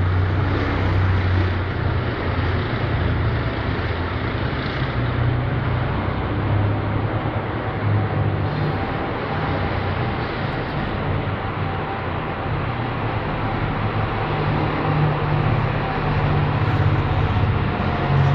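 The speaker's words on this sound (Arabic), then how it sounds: "الدبابات تقتحم درع البلد" Military tanks storming the city of Daraa al-Balad give a steady, loud low rumble and roar that holds for the whole stretch, with no voices over it.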